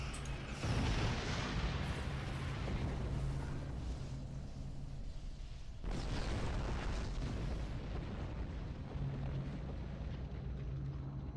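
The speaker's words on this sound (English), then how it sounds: "Next flash, 2 torpedoes hit him," Torpedo hits burst on an enemy ship in Star Trek Online, two heavy booming explosions in sequence, each a loud broad blast that rolls on with a deep sustained rumble.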